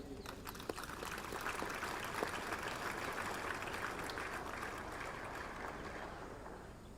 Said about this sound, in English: Ladies and gentlemen, a big round of applause to the cadets and the drill sabs who made this